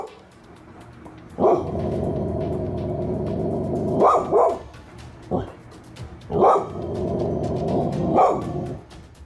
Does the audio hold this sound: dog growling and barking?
yes